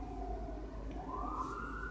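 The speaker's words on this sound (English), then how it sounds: "Remember, hear that siren" An emergency vehicle siren wails in the distance, its pitch rising and falling steadily over a constant low hum, faint and continuous with no speech.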